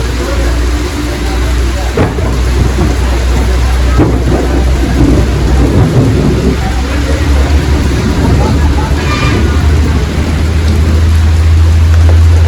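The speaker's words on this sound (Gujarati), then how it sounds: "તાપ પડવાની જગ્યાએ એટલો વરસાદ પડે" Heavy rain pours steadily in Patan, Gujarat, with a deep low rumble of thunder underneath and a few faint voices in the background.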